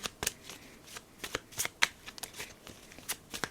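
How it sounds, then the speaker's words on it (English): Tarot cards being shuffled by hand in a steady run of quick, crisp riffling flicks and soft slaps, close and clear with no talking. "I've been shuffling for a while"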